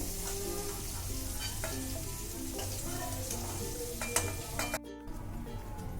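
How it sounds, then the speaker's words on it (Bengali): Cauliflower pieces fry in oil in a wok-like kadai, sending up a steady close sizzle throughout, with a faint metallic clink near the end as the pan lid is moved. "মাঝে মধ্যে কড়ার ঢাকনাটা খুলে আমি ফুলকপিটাকে এভাবে ভেজে নিয়েছি"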